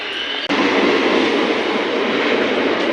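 Steady rumbling roar of a train leaving a railway station, loud and continuous, with a brief dropout near the start and no talking.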